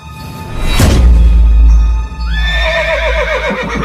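A horse neighs as a sound effect in a Hindi horror narration, the neigh of a headless rider's mount, heard as one loud, high whinny that falls away with a shaky tail, standing alone with a low rumble beneath.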